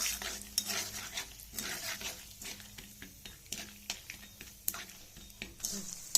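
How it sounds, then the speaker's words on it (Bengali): Peanuts fried in a pan, with a soft sizzle under repeated scraping and clinking of a spatula against metal. "বাদামগুলো দিয়ে ভাজবে, বাদামগুলো ভেজে দেবো।"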